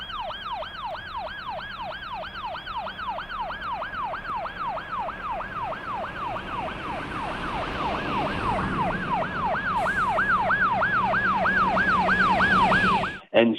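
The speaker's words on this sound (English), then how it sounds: "all these police cars come, red lights on, sirens blaring" Police car sirens wail in a fast, steady up-and-down cycle, loud and close, rising slightly in volume over about thirteen seconds before abruptly stopping.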